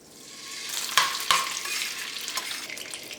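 A piece of butter hits hot oil in a pan for kadhai chicken, the sizzle swelling up quickly with a couple of sharp clinks and spits, then settling into a steady close hiss.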